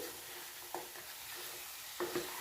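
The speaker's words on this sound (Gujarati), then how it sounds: "તો આપણે ગોળને સારી રીતે મિક્સ કરી લઈશું" A spoon stirs jaggery into a sizzling raw mango curry in a pan, with a steady hiss of cooking and a couple of soft scrapes and knocks from the utensil, close by and without speech.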